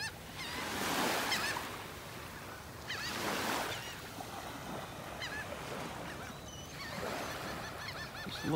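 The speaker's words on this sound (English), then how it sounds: "More seagulls coming down here." Seagulls call repeatedly over a beach in North Naples, Florida, with several bursts of squawking and honking cries rising and falling over steady surf and wind noise, moderately near, with no talk.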